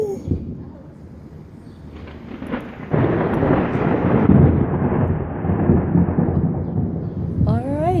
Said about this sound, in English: that was some aggressive thunder